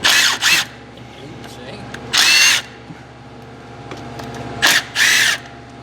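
Three bursts of a power drill or impact tool whirring as it removes 10mm bolts on a snowmobile, each about half a second, close by, with quieter workshop noise in between.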